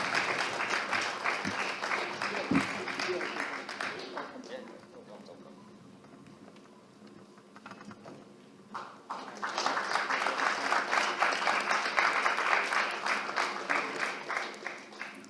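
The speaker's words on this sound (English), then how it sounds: "A big round of applause for them as well." An audience applauds at a business resilience summit's inaugural session during an honoring ceremony. Dense clapping sounds at first, then a quieter stretch, then a second loud burst of clapping that carries on to the end.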